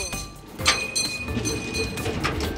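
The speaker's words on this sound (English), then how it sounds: "that's the train bell to alert people that we're crossing" A train crossing bell dings in a steady repeating rhythm, each strike ringing on with a bright metallic tone, fairly close and clear over a busy background.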